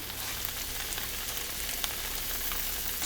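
Tofu and Spam with greens stir-fry in a pan, a dense, even sizzle with no pause or voice over it.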